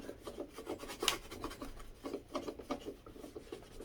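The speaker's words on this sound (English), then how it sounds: "since you are essentially scraping off the paint marks with the alcohol" Light rhythmic scraping and rubbing on the wheels of a Dirt Devil Dynamite vacuum cleaner, working paint marks off with isopropyl alcohol; close, quiet strokes repeating steadily with no talking.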